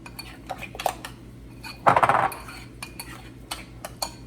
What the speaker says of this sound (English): So we're gonna give it a really good mix. I'm gonna get all the cornstarch at the bottom.